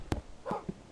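A dog in the Minecraft video game gives one sharp bark followed by two softer yips, all within a second and heard alone.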